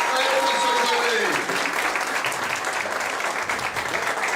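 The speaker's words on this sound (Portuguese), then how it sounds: "Vamos aplaudir mais uma vez?" Audience applause at a public hearing on solidarity kitchens, a dense steady patter of many hands clapping close by for the whole stretch, with a voice calling out over it near the start.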